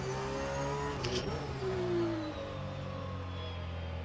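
A race car engine in the rFactor 2 racing game hums steadily in the background, its pitch slowly falling as if easing off, fairly faint and without any talking.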